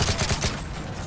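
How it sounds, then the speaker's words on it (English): A quick burst of loud gunfire in Call of Duty: Modern Warfare 3, several shots rattling in rapid succession and then fading. "I heard a gunshot near me."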